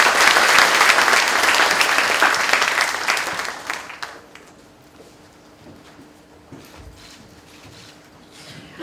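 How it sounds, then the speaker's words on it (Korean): An audience at a corporate recruitment briefing session claps loudly in a dense burst that fades after about four seconds, leaving scattered faint claps and room noise. "박수로 맞이해주시면 감사하겠습니다"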